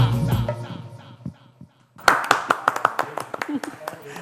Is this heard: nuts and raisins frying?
no